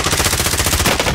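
Rapid automatic gunfire in the video game Call of Duty: Modern Warfare, a tight burst of evenly spaced shots, loud and close, lasting just over a second with no talking.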